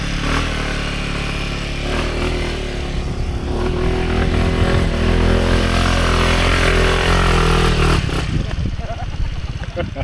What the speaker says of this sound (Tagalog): Dirt bike out.